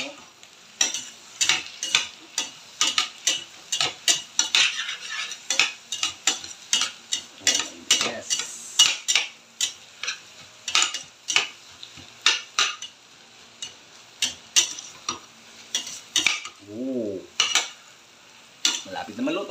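Eggs cook in a pan while a utensil scrapes and clinks against the metal in quick, irregular strokes over a faint sizzle, close and alone.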